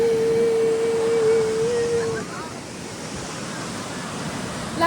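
Surf and waves wash steadily on Kashid beach, a broad continuous roar of water with a brief tonal hum near the start, no talk.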